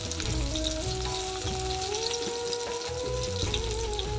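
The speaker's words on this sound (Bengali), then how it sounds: "তো পিঁয়াজগুলো মুই দিয়ে দিলাম, সাথে দুইটা তেজপাতা অ্যাড করে দিই" Onions with two bay leaves frying in a pan, a steady bubbling sizzle close by under a faint background tone, without any voices.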